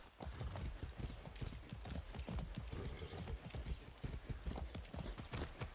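Horse hooves clip-clopping in a steady, brisk rhythm on hard ground in the video game Far Cry 6, continuous and fairly close, with faint ambient noise behind.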